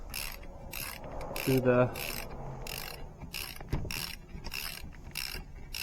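A ratchet wrench clicks in quick, evenly spaced bursts while loosening the bearing cap bolts on a Nissan H233B limited-slip rear differential from an R50 Pathfinder, close and fairly quiet, with metallic clinks and a brief spoken phrase.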